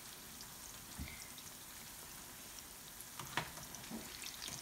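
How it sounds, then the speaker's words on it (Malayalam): Sukhiyan fry in hot oil over medium heat, giving a faint, soft sizzle with a few scattered pops and crackles. No one speaks. "ഇതിനി നമുക്ക് രണ്ട് വശവും തിരിച്ച് മറിച്ച് വിട്ട് വറുത്തെടുക്കാം"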